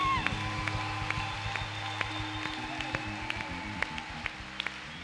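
A church congregation applauds and cheers for Jesus, sustained clapping and scattered shouts from the crowd under organ or keyboard chords playing throughout.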